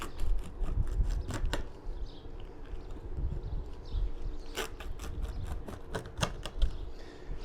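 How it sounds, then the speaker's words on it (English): A rocker knife cuts a grilled pizza into squares, giving a series of sharp crunching, clicking strokes at an uneven rhythm, close and moderately loud. "So you cut down this way."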